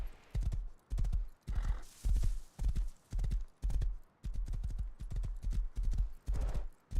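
Horse hooves clip-clop in a steady repeating rhythm, close and loud, in the survival game Rust on console, with a brief neigh partway through and a voice speaking faintly underneath.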